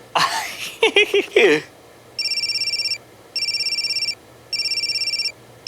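A telephone rings in three evenly spaced electronic trill bursts, fairly loud and close, following a short stretch of someone talking.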